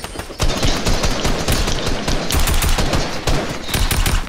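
Rapid bursts of automatic gunfire from a Fortnite match, loud and dense volleys hammering almost continuously for several seconds with only brief gaps, no talk over them.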